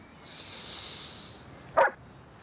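A dog gives a quick snort followed by a single short, sharp bark, close by and fairly loud, with a faint hiss in the background before it.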